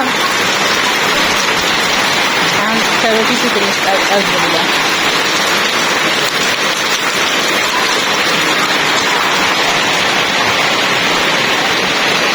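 Rain pours down in a constant, loud, broadband rush with no breaks, while a person speaks briefly in the first few seconds.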